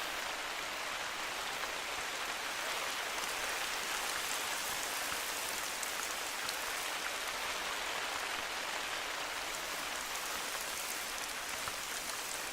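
Steady rain falls in the hunting game theHunter: Call of the Wild, a dense, even hiss of drops on the ground that holds unchanged throughout, with no voices.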